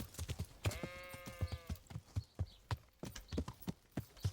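A sheep bleats in the medieval role-playing game Kingdom Come: Deliverance, one drawn-out call over steady clopping hoofbeats from a horse being ridden.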